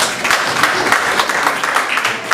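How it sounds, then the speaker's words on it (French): Applause rises from an audience at a ceremony honoring a woman with a disability, brisk continuous clapping heard close and fairly loud for a couple of seconds. "je pense qu'elle mérite encore des applaudissements."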